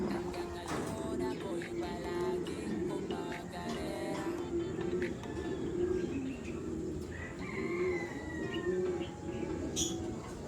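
Pigeons coo softly and steadily outdoors, along with occasional chirps and a brief flutter of wings, while a faint voice speaks in the background.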